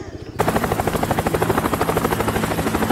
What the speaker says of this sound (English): they had rented a helicopter